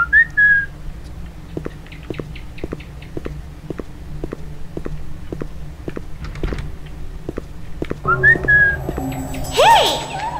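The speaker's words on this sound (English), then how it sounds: "Press Q to whistle." Short whistling from a character in the horror video game Who is He - Let Me Out, two brief whistled notes at start and later, between steady rhythmic footstep clicks.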